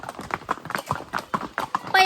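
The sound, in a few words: horse hooves clip-clopping while carrying riders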